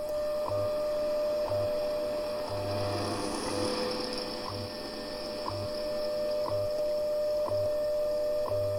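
Shortwave radio receiver tuned to 5 megahertz, giving a steady hiss and hum with a faint whining tone and regular once-per-second ticks pulsing through the static, fairly quiet and with no voice.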